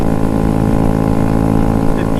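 A Honda Grom motorcycle engine drones loudly and steadily at speed while riding into a strong headwind, with a dense, constant buzz and no clear rise in pitch.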